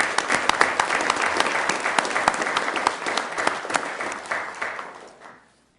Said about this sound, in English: will give you a round of applause as well